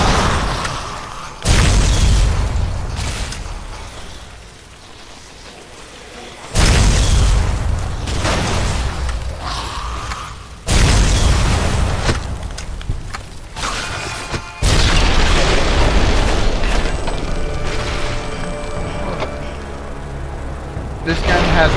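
Explosive gun blasts in Fallout: New Vegas, four heavy booming shots spaced several seconds apart, each followed by a rumbling decay and mechanical clatter, with a voice speaking between them.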